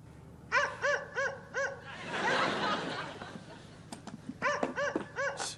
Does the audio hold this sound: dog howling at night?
yes